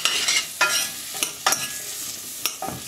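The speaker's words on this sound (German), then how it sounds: "Jetzt hört man schon, wie das langsam glasiert." Sliced carrots, an old vegetable variety, glaze and sizzle in a hot pan, a steady close frying hiss broken by several sharp scraping stirs at irregular intervals, with no talking.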